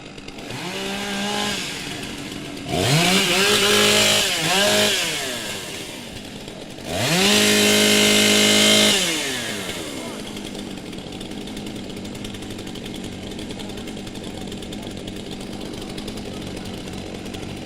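Several STIHL chainsaws revving in bursts at a timbersports championship, loud roaring engine surges with rising and falling pitch separated by brief idling, then settling into a steady low idle.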